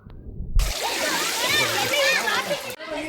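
Water splashes and sloshes loudly as a person swims in a resort pool in Sakleshpur, a steady close churning spray that lasts nearly three seconds and then cuts off abruptly.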